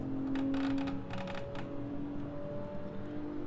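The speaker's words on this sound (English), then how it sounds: "clicking from the wheel is wonderful" Clicking from a Logitech G27 racing wheel in a VR driving setup: a quick burst of close, crisp clicks early on, then a few scattered ones over a steady droning game engine tone.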